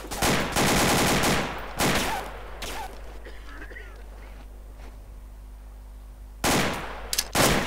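Bursts of automatic gunfire from the Arma 2 game, loud rapid volleys at the start and again near the end, separated by quieter stretches with faint distant noise.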